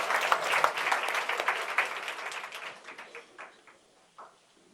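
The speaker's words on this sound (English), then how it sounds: "Please give Gloria, or Dumado," An audience at a book launch gives a panelist a warm round of applause, dense clapping at first that thins into a few scattered claps before fading out.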